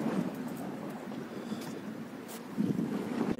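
Ship on the water near a park by the Bosphorus in Istanbul, a low steady rumble of water and engine mixed with wind noise, swelling slightly near the end.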